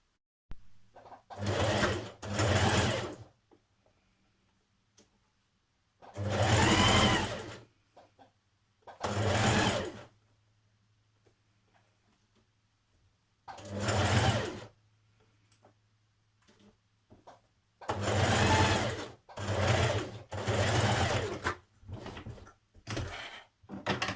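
A sewing machine stitches the bodice seam of a Simplicity 1195 occasion dress in several short whirring bursts separated by silences. Each burst is close and clear, with a steady low motor hum beneath the stitching.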